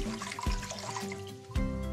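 Water pours into a pot set up for boiling sweet potatoes, filled just to the steamer stand: a continuous close splashing stream with gurgling shifts and a heavier splash near the end.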